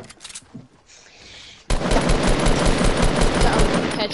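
Rapid automatic gunfire in an online duos shooter game, a dense continuous burst of loud shots that starts abruptly after a quieter stretch with faint earlier pops.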